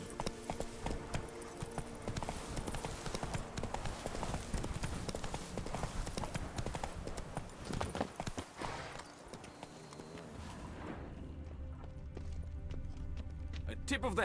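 A horse gallops in the video game The Witcher 3: Blood and Wine, its hooves drumming in a rapid, steady rhythm before slowing and fading out near the end, with speech likely mixed in.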